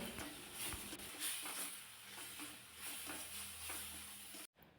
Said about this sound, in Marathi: व्यवस्थित हे चांगलं परतून घ्यायचं आहे